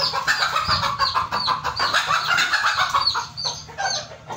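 Chicks and chickens feeding on superworms make busy clucking and peeping, a dense, steady chatter of fowl calls close by, fairly loud, with no talking.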